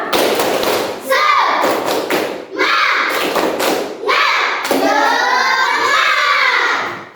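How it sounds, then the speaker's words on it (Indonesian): A classroom of pupils performs a rhythmic spirit clap (tepuk semangat) in patterned bursts of loud, close hand claps and thumps, with children's voices chanting along between and over the beats. "Kalau begitu kita kembali tepuk semangat dulu. Ya, tepuk semangat."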